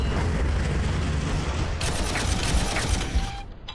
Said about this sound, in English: I guess we can have a Vanquisher shoot them